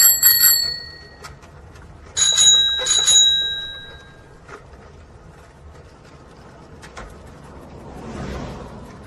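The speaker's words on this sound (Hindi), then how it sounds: "भाई, ये आवाज साइकिल की है ना?" Bicycle bell rings at night outside a rainy roadside tea stall, two bright bursts of quick dings a couple of seconds apart, then fainter mechanical clicks and rattles fading into quiet.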